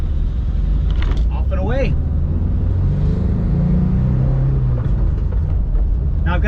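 A VW Microbus Type 2 engine drones and strains low and steady as the van climbs a steep driveway, loud and close throughout, with someone speaking briefly over it near the start.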